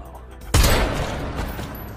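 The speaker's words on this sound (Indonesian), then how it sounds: "Jul pun menembak Bullet" A single pistol shot in a film, a sudden loud close blast with a heavy low boom that decays slowly into a rumbling tail.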